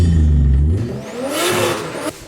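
A car on freshly fitted tyres accelerates hard, its engine note rising steadily from a deep rumble to a higher revving whine over a couple of seconds, fairly close and loud with no voices.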